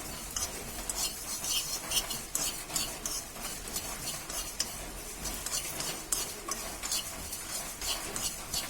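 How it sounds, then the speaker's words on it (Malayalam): Dense, continuous crackling and popping as spices fry in hot oil in a pan, with quick sharp spits scattered throughout and occasional light scraping in the pan. "ഇത് പൊട്ടിപ്പൊരിഞ്ഞ് വരുമ്പോ നമുക്ക് വേഗം ഫ്ലെയിം ഓഫ് ചെയ്യാം"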